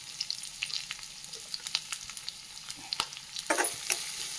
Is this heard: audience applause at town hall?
no